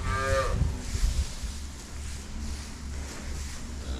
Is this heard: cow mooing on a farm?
yes